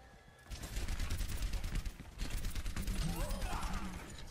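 Rapid gunfire in the video game Overwatch, dense bursts of shots running nearly continuously and loud throughout, with a short lull partway through and game effects mixed in.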